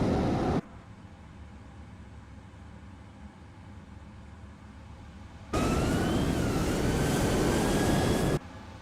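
A Frontier airliner on its takeoff roll in Microsoft Flight Simulator 2024 gives a broad, steady jet roar that drops to a low hum, then returns louder with a rising turbine whine.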